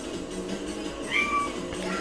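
A cat gives a short, whining meow in the middle, with a rising then falling tone, heard faintly over a steady game soundtrack.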